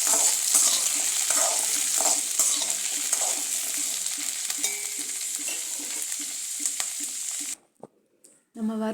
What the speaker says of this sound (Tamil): அதையும் வெங்காயம் போட்டு தனியாக வறுத்து எடுத்துக்கிறோம்